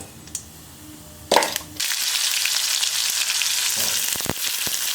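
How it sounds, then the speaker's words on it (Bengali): After a few soft knocks and a quick clatter, boiled small potatoes hit hot oil with cumin and burst into a loud, steady, close sizzle broken by a couple of sharp stirring clicks. "তেলে জিরে ফোড়ন দিলাম এবার এই ছোট আলুগুলো সেদ্ধ করে রেখেছি আমি দিয়ে দেবো"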